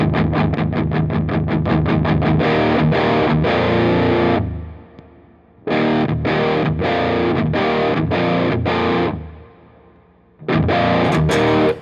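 Electric guitar through a Catalinbread Dirty Little Secret Deluxe distortion pedal, heavily overdriven chords played in fast chugging bursts, then sustained ringing chords separated by short pauses, loud and close.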